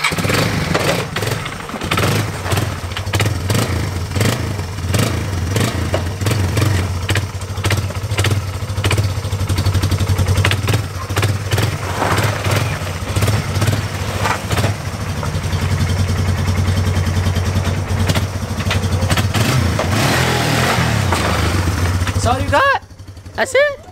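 A new ATV engine, cold and running with the choke on, chugs and revs steadily for most of the clip, a loud mid-pitched motor close by with people talking over it before it cuts out near the end.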